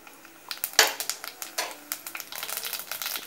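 Cumin seeds hit hot oil in a pan for a Sri Lankan beetroot curry, giving a run of sharp crackles and pops that are close and loud, with no talking over them.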